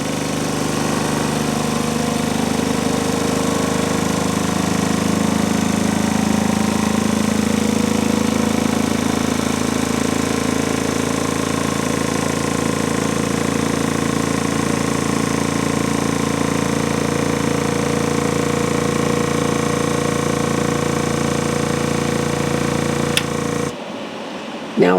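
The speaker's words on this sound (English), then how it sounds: "Now it is sealing. And now the atmospheric pressure is going to come back in." A vacuum sealer sealing a bag of beef stew runs as a steady, loud mechanical drone with a buzzing hum, continuous for most of the stretch before cutting off abruptly near the end.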